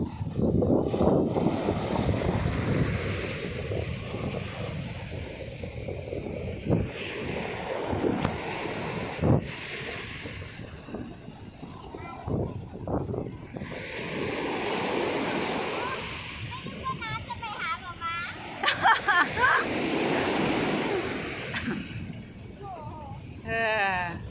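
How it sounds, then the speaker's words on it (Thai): Strong sea waves crash and roll continuously on a beach, a loud broadband surge with wind buffeting the microphone and a voice speaking intermittently over the surf. "ลูกคลื่นแรงมาก คลื่นแรงแบบนี้เขาจะไม่ให้ลงเล่นน้ำทะเล"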